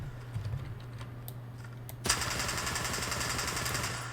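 AK-74U firing in STALKER 2: a dense stream of rapid automatic shots begins partway through and keeps going to the end, preceded by a few faint clicks over a low steady hum.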